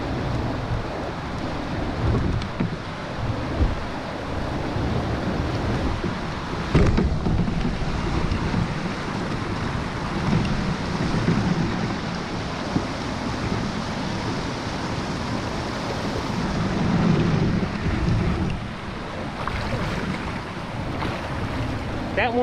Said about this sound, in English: That one fed into some nice white water.